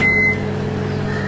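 A kitchen oven, preheated and ready for baking a cake, gives a single short electronic beep at the start, followed by quiet steady appliance hum with no talking.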